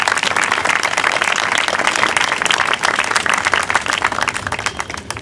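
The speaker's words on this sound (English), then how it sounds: "please join me in providing a round of applause for your parents and your family." A graduation audience applauds in a dense, continuous crowd clap that holds at a steady level for several seconds and fades a little at the end.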